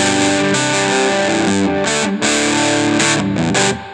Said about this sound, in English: If you want a lot, you take that distortion knob, and it's not going to change the volume much, but it's going to change how distorted it is.